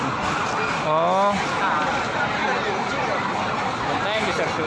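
Fire engine siren wailing at a burning market in Jeneponto, rising and falling through heavy crowd noise and roaring background din, with people talking throughout.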